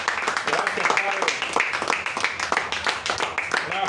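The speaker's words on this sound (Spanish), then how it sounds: "Dale un aplauso" A church congregation claps and applauds during a worship service, a dense patter of hands lasting a few seconds, with voices mixed in.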